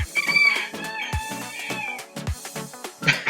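A rooster crows amid loud, busy background sounds, including cat-like meowing calls and sharp knocks, with no speech.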